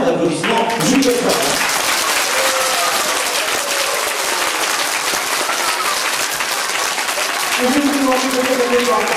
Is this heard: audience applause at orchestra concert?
yes